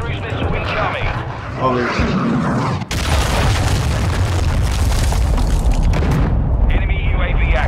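Heavy booming cruise missile blasts in Call of Duty Modern Warfare II, a sharp loud impact followed by a long roaring, crackling rumble, with a voice speaking under the noise.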